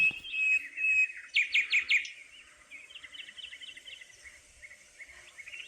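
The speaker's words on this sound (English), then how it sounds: "in the tops of the trees, the nightingales were singing." Nightingales sing high, trilling phrases in treetops, with a louder burst of rapid repeated notes near the start, then softer chirps continuing in a quiet setting.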